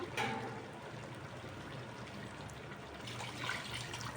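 Water is poured from a vessel into a cooking pot, a continuous soft splashing and trickling that stays even and fairly faint from start to finish.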